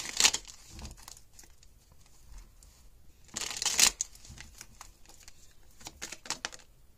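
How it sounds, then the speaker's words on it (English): Tarot cards being shuffled by hand, two bursts of crisp riffling and flapping, with soft handling rustles and light taps in between at close range. "Two more shuffles here."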